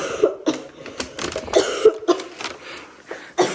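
Several short, rough coughs and throat-clearing bursts come in quick succession, fairly close and moderately loud.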